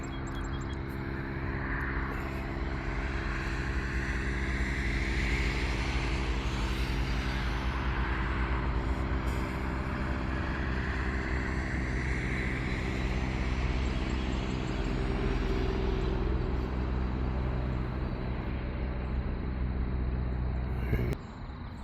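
A Stearman biplane passes over a runway, its engine a loud, steady, rumbling drone that holds for about twenty seconds before easing off slightly at the end.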